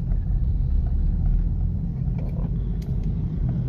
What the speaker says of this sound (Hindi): और ये फिर मैंने जंप से गाड़ी सेकंड गियर में उतार दी